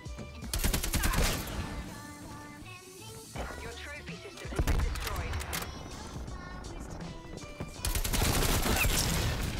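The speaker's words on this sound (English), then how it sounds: "These artilleries aren't doing much for me here." Artillery and gunfire in Call of Duty Cold War rumble in dense, rapid bursts of heavy impacts and automatic fire, loud throughout with brief lulls, while a player talks over the battle.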